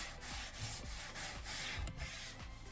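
Scrub Ninja brush scrubbing a wet plow truck, a rhythmic series of soft rubbing strokes repeating roughly every half second, fairly quiet and close with no talking.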